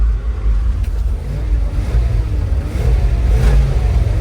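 The blower motor of a Ford car runs as a steady low rumbling whoosh that fills the whole clip at an even level, with no voices over it.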